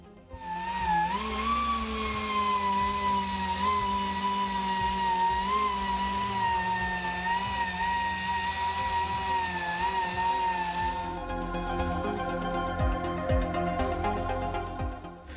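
A power polisher runs continuously with a rising and wavering whine while sanding out a paint scratch with 3000 grit on a 1974 Mini Cooper, close and steady, then the tone changes near the end.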